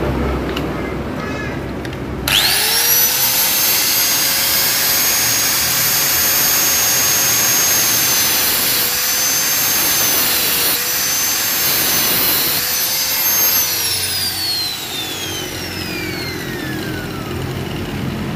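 An angle grinder cuts through the pulser part of a motorcycle CDI ignition system, a loud, close, continuous high whine that starts abruptly and dips in pitch under load before winding down near the end.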